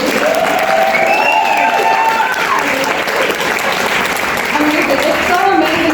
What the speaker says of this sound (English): I think you can clap louder than that, right?